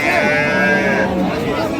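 A loud, close, drawn-out moo comes from a Sahiwal, Sindhi or local dairy cow at a busy cattle market in Dinajpur, with crowd noise behind it.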